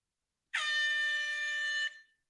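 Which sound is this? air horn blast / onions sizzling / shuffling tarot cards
air horn blast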